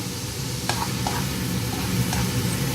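Onions sizzle in a pan, a dense continuous hiss with a few sharp scraping stirs, close and loud, no speech.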